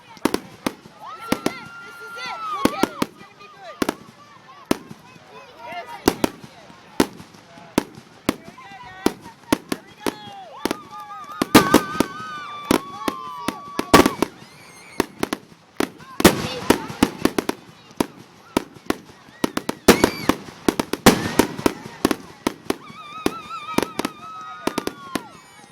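A fireworks grand finale at Forest Hill Country Club in 2014: rapid, dense volleys of sharp bangs and crackles go on throughout, loud and fairly near, with people talking and calling out amid the blasts.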